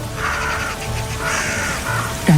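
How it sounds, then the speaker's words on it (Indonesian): In a Bible story, birds bring food to Elijah. Several crow-like caws sound in quick succession over a continuous ambient background. "Setiap pagi dan petang, burung-burung membawa makanan kepada Elia."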